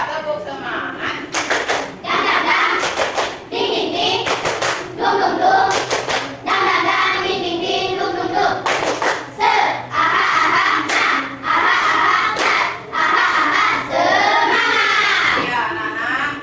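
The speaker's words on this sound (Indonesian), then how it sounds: "coba tepuk semangat" A class of children performs a rhythmic spirit clap in an Indonesian primary classroom, sharp patterned bursts of clapping alternating with chanted children's voices, loud and close.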